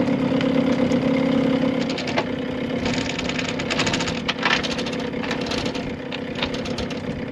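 A sailboat's auxiliary motor runs steadily at close range, a constant mid-pitched drone with a faint knocking pulse and a slight shift in tone partway through, carrying on without talk.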